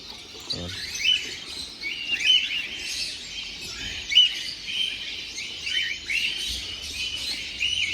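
Pet birds at a bird show in New Zealand, including lovebirds, giving a scatter of quick chirps and tweets at moderate distance over a low background murmur.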